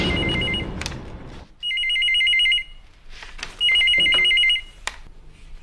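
A telephone rings in a crime drama scene, two distinct warbling electronic bursts of about a second each separated by a quiet gap, loud and close, with scattered clatter before and between them.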